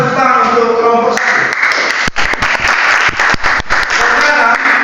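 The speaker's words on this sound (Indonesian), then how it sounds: "silakan tepuk tangan untuk kelompok 1" A class of teachers in training applauds a student group after a voice stops at the start. Sharp, uneven claps thicken into a loud wash of clapping that keeps going to the end.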